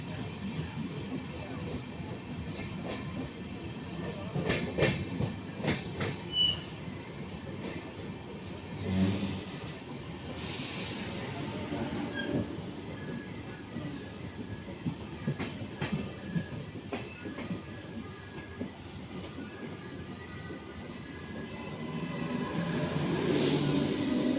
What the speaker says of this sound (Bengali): আসানসোল ঢুকছে ট্রেনটা যাচ্ছে